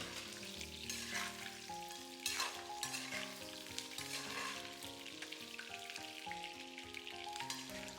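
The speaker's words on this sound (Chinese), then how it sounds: "把排骨炒至表面微黃，水分收乾" Pork ribs stir-fried in a wok, giving a steady close sizzle of frying with repeated scraping strokes of the spatula, alone with no voices.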